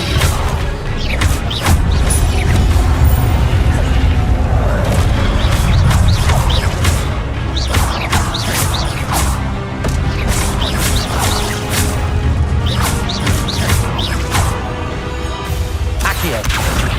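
Spell impacts in a Harry Potter video game: dense, loud booms, crashes and whooshes hitting in rapid succession throughout, with voices shouting over the continuous clash.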